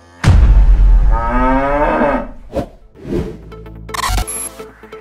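A cow moos loudly and close, one long lowing call followed by a few shorter grunting calls and a brief higher noise near the end.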